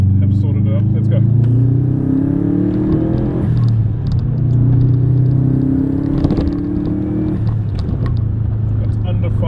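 Subaru Impreza GC8 (MY00) engine pulling hard under turbo boost, a loud continuous rumble with rising and falling engine tones as it accelerates through gears, heard from inside the car.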